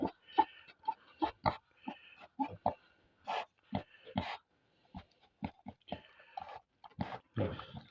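A Vietnamese pot-bellied piglet grunts and snorts in short bursts while eating, with wet munching and chewing noises close by, some louder snuffling near the end.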